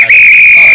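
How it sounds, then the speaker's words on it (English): A whistle is blown in one short, loud, steady shrill tone that holds without wavering for under a second. "Today, you blow my whistle, please."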